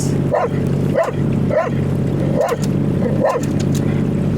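A dog barks five times at an even pace over a constant low rumble, the barks moderately loud and close.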